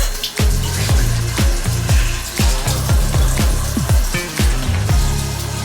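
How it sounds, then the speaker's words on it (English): Tap water runs into a sink while someone rinses their face, with repeated splashing bursts as hands scoop and spill water, loud and close throughout. "I just had to rinse my face because I had eye boogers and drool and stuff on top of my face."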